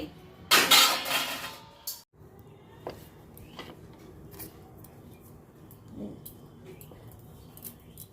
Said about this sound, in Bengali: এখন বাসনটা গোছাবো